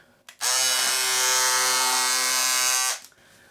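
A loud electric fabric cutter runs steadily through a piece of faux leather, a harsh high buzzing whine that starts abruptly, holds for about two and a half seconds, then cuts off, with no talking.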